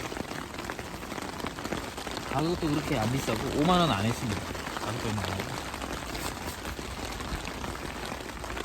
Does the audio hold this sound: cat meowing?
no